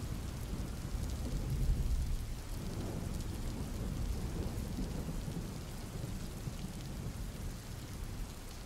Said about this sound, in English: One dark and stormy night,